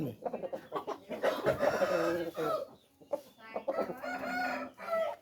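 Nearby chicken sounds, a rooster clucking and crowing in bursts at a rooster market, with faint talk in the background.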